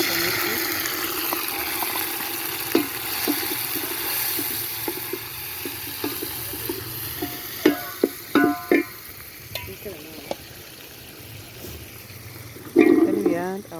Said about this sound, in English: We have to cook our onions until they are brown in color. Then we add tomatoes.